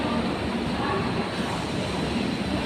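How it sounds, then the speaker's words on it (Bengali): Rajdhani Express train pulling into a station, a steady, loud broadband rumble of rolling wheels and carriages filling the whole moment without pause. "রাজধানী আসছে বন্ধুরা"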